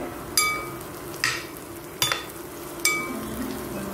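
Onions fry in a covered pan with a soft continuous sizzle, broken by four sharp clinks of a spoon against the pan at roughly even intervals, close and fairly quiet, with no talking.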